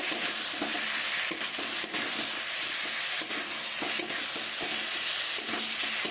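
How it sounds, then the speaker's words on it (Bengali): Duck eggs and okra being stirred in a pan of cooked-down masala, giving a steady sizzling hiss with a few soft scraping strokes, close and continuous with no talking. "জল দেওয়ার আগে ডিম আর ঢ্যাঁড়সটা দিয়ে দেব দিয়ে ভালোভাবে নাড়াচাড়া করে নেব"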